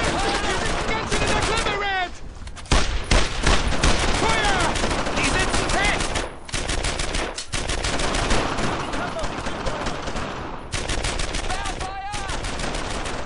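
Dense machine-gun bursts and rifle shots from suppressive fire in the WWII shooter Brothers in Arms: Earned in Blood, loud and near, rattling almost nonstop across a battle with short lulls, with a voice talking over parts of it.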